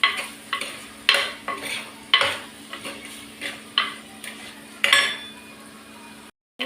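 Eggplant sautéing in oil for ennai kathirikai kuzhambu, with a spatula striking and scraping the pan in repeated separate strokes over a faint sizzle, close by, then a brief silence near the end.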